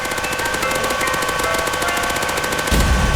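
Rapid automatic gunfire from a Roblox Mad City game fight, a dense steady burst of shots that swells louder and heavier toward the end, with no talking.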